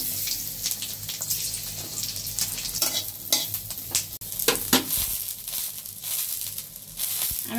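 Green chilies, garlic and onion sizzle in hot mustard oil, a close, fluctuating crackle broken by stirring scrapes and brief spurts.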